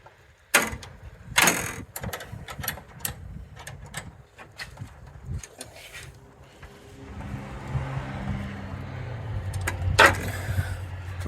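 Metal wrenches clank and ratchet while tightening brake line fittings on a 2008 Mercedes ML-350, giving sharp close knocks and scrapes at irregular intervals and a softer rustling stretch toward the end.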